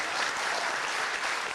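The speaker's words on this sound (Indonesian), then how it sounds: "Boleh tepuk tangan dulu." Audience applause at an evening contest event in Medan, a short burst of dense clapping, steady and moderately loud throughout.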